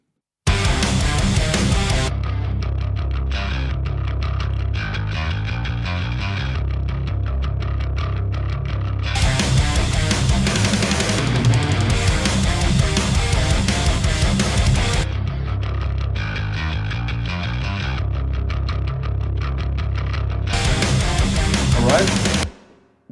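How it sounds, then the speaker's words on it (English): A heavy metal bass guitar, soloed from the mix, plays a distorted, driving line steadily and loudly, with heavier, brighter bursts in a few sections and no voices. "So the bass on its own sounds like this."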